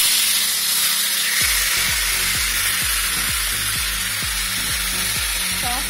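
Marinated chicken for achari chicken sizzles steadily in a hot pan, a loud continuous frying hiss with a regular series of thumping clicks underneath.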